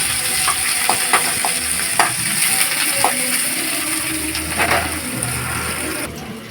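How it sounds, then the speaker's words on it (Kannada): Onions sizzle and crackle steadily in hot oil with garlic and curry leaves for Karnataka-style non-veg cooking, with scattered stirring clicks and scrapes over a continuous frying hiss; no talking. "ಚೆನ್ನಾಗಿ ಫ್ರೈ ಮಾಡಿ."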